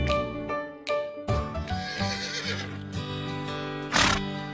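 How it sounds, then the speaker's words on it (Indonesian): A horse lets out a loud, drawn-out whinny, trailing into shakier neighing and ending in a sharp, breathy snort, with steady background music underneath. "Kuda adalah hewan mamalia yang sangat kental dengan peradaban manusia"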